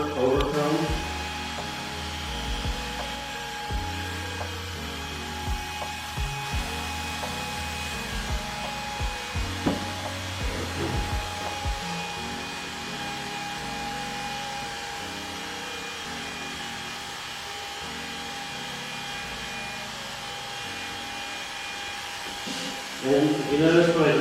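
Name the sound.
electric hair clipper cutting hair, clipper over comb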